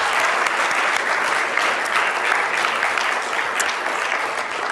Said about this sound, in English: So let's give a little round of applause.